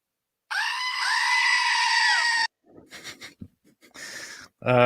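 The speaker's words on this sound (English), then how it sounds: "Duo Goat Scream, please." A goat scream sound effect blares as one long, loud, sustained cry, followed by breathy noises and a short burst of speech.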